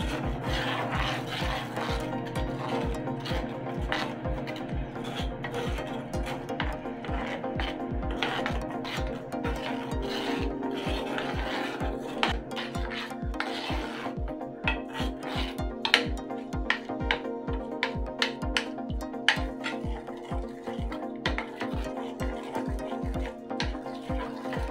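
A spoon scraping and stirring raw banana powder halwa in a pan makes a steady, rapid rasping rhythm of repeated strokes that runs close and continuous with no talking.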